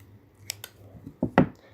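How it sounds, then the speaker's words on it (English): Scissors snip paper while trimming bunny ears for a 3D Easter card, with a few crisp close cuts spaced irregularly, the last two louder, in a quiet room. "Might just trim them down a tiny, tiny bit more."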